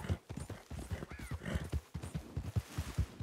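Hooves of a white Arabian horse clip-clop in a quick, steady running rhythm, close and fairly loud, with a brief whinny-like tone in the middle and no talk over it.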